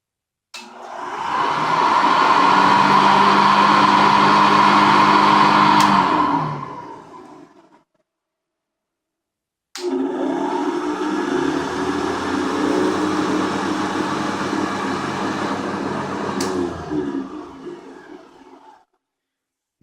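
Two Hoover 913 heavy duty commercial vacuum cleaners with big metal hoods and bases, rated at 400 and 420 watts, each run in turn with a loud, steady whine. The first sounds for about seven seconds, then after a pause the second runs slightly differently before winding down.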